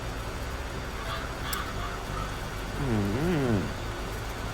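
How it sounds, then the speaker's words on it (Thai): A crow caws several times in Farming Simulator 23 over a steady rural game background, a short series of harsh, rising-and-falling calls at moderate distance. "อีกานะฮะ"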